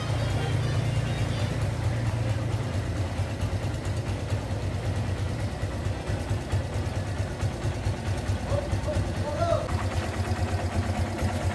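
A Kawasaki Barako 2 motorcycle engine idles steadily and evenly throughout, close by, as a low continuous rumble that someone speaks over.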